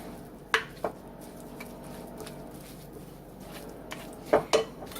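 Spinach dip ingredients with softened cream cheese being mixed in a bowl produce a few sharp clinks of a utensil against the bowl over quiet, soft stirring, with no talking.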